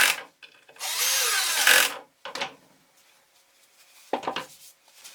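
Cordless drill driving screws into a tropical wood tabletop from a garden table: one sustained buzzing drive of about a second, followed by short bursts and a final quick burst, close and with no talk.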